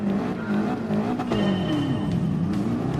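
Ford GT LM race car in Gran Turismo Sport pulling away at a race start, a loud, steady engine drone rising and shifting pitch as it accelerates, with other cars revving close around it and no talk.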